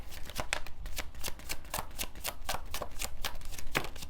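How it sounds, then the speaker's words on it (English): Oracle cards from an Island Time Wellness Law of Attraction deck are shuffled and drawn, giving a steady run of crisp riffling flicks and papery slaps at close range, with no talking. "I'm going to pull from the Island Time Wellness Law of Attraction card and see what final messages we can get you"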